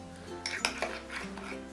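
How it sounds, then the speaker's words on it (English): A spoon or whisk knocks and scrapes against a bowl while cocoa powder is mixed into whipped cream, a short burst of clinks and stirring, close and clear. "So we are going to mix the cocoa powder once."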